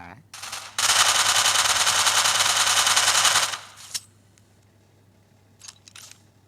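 Heavy automatic gunfire from the battle-royale shooter Free Fire in Stake Out mode, a loud sustained burst of about three seconds followed by a few faint scattered shots.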